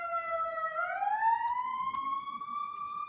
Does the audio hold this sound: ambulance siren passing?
yes